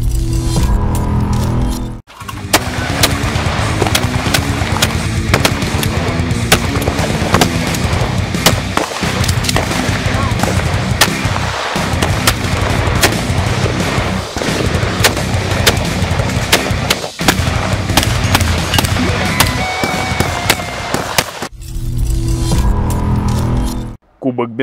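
Shotgun fire at a Benelli practical shooting competition cracks out in rapid, irregular bursts across a busy range, with loud shots close by and someone talking throughout.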